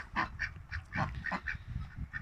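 Old Polish ducks quack repeatedly in short nasal calls, fairly faint and somewhat distant, over a low background rumble.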